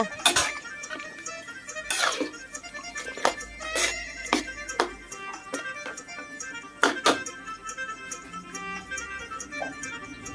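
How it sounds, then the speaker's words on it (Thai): Scattered metallic clinks and scrapes of a utensil stirring eggplant through a Thai red curry with pork balls in a pan, irregular and fairly close, with soft bubbling underneath and no talking. "แล้วให้คนมะเขือคืนกระจายไปให้ทั่วๆกระทะค่ะ"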